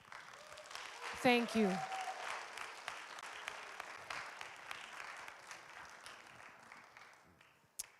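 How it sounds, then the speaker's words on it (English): Applause for quizzers, coaches and quiz masters at a regional quizzing event: moderate, steady clapping from a crowd, with a brief spoken voice and a short whistle near the start. "I think all of our quizzers and coaches and our quiz masters who haven't had a break all day need a good round of applause."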